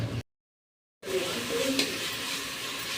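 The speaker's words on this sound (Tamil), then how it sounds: "இந்த தக்காளி, வெங்காயம், இஞ்சி பூண்டு பேஸ்ட்டு எல்லாம் நல்லா ஒன்று சேர வதங்கி வரணும்" Tomato, onion and ginger garlic paste sautéing for Chettinad chicken make a close, steady sizzle with occasional stirring scrapes, after a short silent break at the start.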